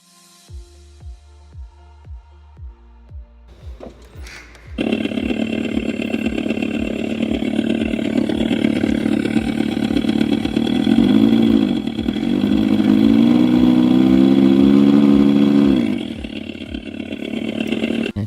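A simulated motorcycle exhaust note plays from the small speaker of an Ola S1 electric scooter, starting as evenly spaced idle pulses, then swelling into a loud, buzzy engine drone with rising revs.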